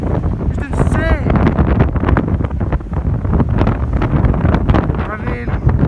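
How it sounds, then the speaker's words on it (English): Strong wind blows at a small beach bay, roaring and buffeting loudly across the microphone without letup, while people talk underneath the gusts. "you can hear that wind?"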